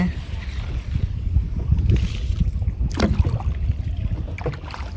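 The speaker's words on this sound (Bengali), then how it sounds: "তুমি নৌকা বাও কে তোমার নৌকা বাও আমি সোজা রাখি" A wooden boat is rowed on a village lake, with low, steady splashing and water movement close by, wind noise on the microphone and voices talking over it.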